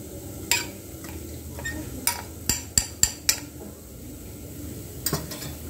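A spoon scrapes and clinks against a pan while turmeric, red chilli powder and garam masala are mixed into fried ground masala paste for bitter gourd bhaji; scattered sharp taps and clatters ring out over a soft, low background.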